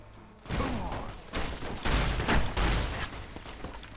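Shotgun blasts in Fallout New Vegas, several heavy booming shots in uneven succession, loud and close over game ambience, with no talk.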